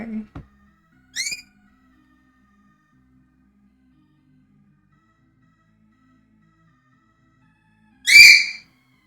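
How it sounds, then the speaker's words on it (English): A noisy pet parrot gives three separate calls: two short shrill squawks close together at the start, then a long gap of near silence before one louder, harmonic-rich screech near the end. "What kind of bird do I have? A noisy one."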